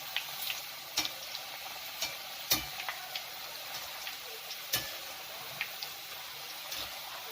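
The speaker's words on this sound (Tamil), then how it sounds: "நல்லா கோல்டன் ப்ரௌனாக வறுத்து எடுக்கணும்" A sweet snack deep-frying in hot oil until golden brown, a steady faint sizzle broken by sharp scattered clicks and taps of a utensil, with no talk.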